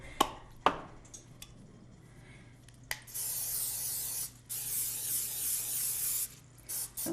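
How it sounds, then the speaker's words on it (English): Non-stick cooking spray hisses steadily onto a waffle iron for a few seconds, one long spray with a brief break, preceded by a few light knocks. "spray it with a non-stick"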